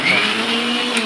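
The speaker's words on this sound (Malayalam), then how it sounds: "ചിക്കൻ പൊരിച്ച് വെച്ചത്, വാലേട്ടൻ, ഇഞ്ചി വെളുത്തുള്ളി ഇത്യാദി സാധനങ്ങളൊക്കെ മിക്സിയിലിട്ട് അടിച്ചുകൊണ്ടിരിക്കുകയാണ്" Electric mixer grinder whirring steadily as it blends fried chicken with ginger and garlic, a loud continuous motor drone with no pauses and no voices.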